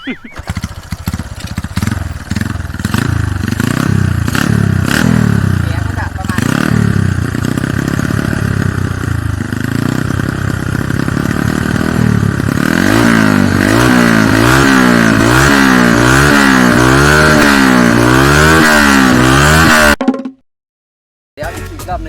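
A motorcycle engine idles with a loud, steady throb, then revs up and down repeatedly, close by, before cutting out abruptly near the end.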